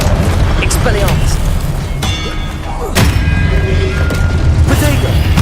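A Hogwarts Legacy Expelliarmus spell cast during a game duel lands as a loud, booming magical blast with a sharp thud. Thick, busy battle sounds fill the background.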